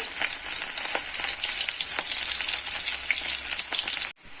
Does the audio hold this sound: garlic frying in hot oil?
yes